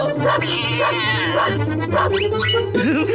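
Cartoon dog from Hindi-dubbed Oggy and the Cockroaches barking and yipping loudly in quick bursts, tangled with cat-like yowls and busy cartoon effects throughout.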